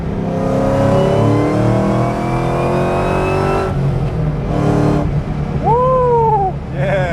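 A Ford SVT Cobra engine revs hard as it accelerates, with a rising mechanical whine climbing in pitch, followed by a brief shift into third gear and another pull.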